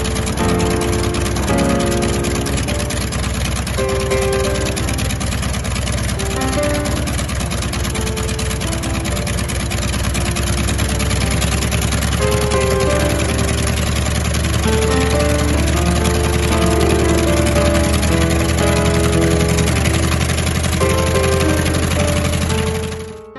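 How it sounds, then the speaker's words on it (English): Wright Cyclone R-1820-86B radial engine of a T-28 Trojan Fennec running after start-up: a loud, rough, throbbing roar with harmonic tones that continues and strengthens before cutting off at the end. "The engine is made by Curtis Wright. It's a Wright Cyclone R1820 cubic inch -86B."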